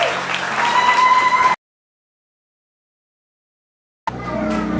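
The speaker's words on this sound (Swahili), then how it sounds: "Makofi mazuri tena kwa watoto wetu." Applause from a church congregation at a Sunday service, a full burst of clapping that cuts to silence for a couple of seconds, then resumes just as strongly.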